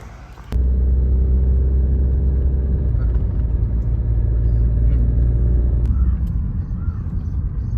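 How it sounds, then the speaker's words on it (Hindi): Heavy road traffic on a mountain road on the way to Ooty, with a loud continuous rumble of many vehicles passing close by, engines droning steadily after a sudden onset. "गाड़ियाँ ही गाड़ी"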